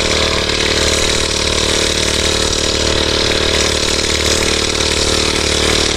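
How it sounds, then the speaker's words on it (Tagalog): A motorcycle engine revving hard and steadily at close range, loud and continuous, with a rough crackling edge suggesting popping from the exhaust. "Pag nakabira, gumaganyan siya, lumalagapak."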